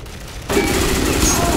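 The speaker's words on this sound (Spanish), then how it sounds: "He soltado una granada, pero mal hecha." A grenade blast in the shooter game Ghost Recon Phantoms erupts suddenly and loudly, then gives way to sustained roaring gunfire and explosive noise filling the rest of the moment, with voices mixed underneath.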